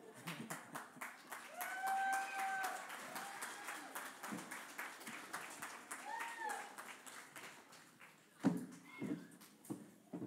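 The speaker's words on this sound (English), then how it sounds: "Can we give another round of applause for our Chinese dragons?" Audience applause for Chinese dragon performers, scattered clapping that rises and falls under a loud mix of crowd voices and whistle-like tones, with a sharp burst near the end.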